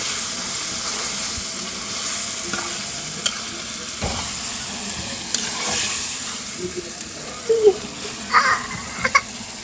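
Beef frying with spices in a pan for a village-style beef curry, with a continuous sizzle and hiss under repeated stirring and scraping strokes, close and fairly loud.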